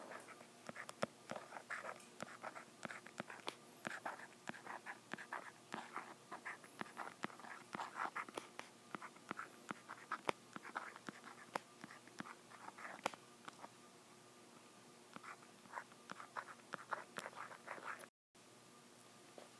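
Numbers being written by hand on paper, heard as a close, quiet, continuous scratching of the pen or pencil in short strokes and taps, with no talking.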